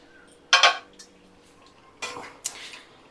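Metal utensil scraping and clinking in a pot of potato mutton curry, a couple of short bursts of stirring separated by quiet pauses, close and fairly soft with no talk.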